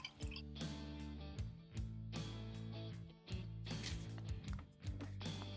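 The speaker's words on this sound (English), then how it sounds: "So we'll go ahead and pour that into our beaker here." Water is poured into a beaker in a quiet workspace, gurgling with a series of soft splashes and drips, some rising in pitch as the beaker fills.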